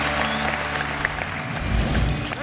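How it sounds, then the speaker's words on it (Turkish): A studio audience on a Turkish comedy talk show applauds loudly and steadily, a dense wash of clapping that fills the whole moment with no speech over it. "Alkışlar Bayram abi."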